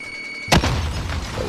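A single sharp grenade blast in Call of Duty booms out after half a second of quiet game ambience, followed by a rumbling low tail that lingers to the end.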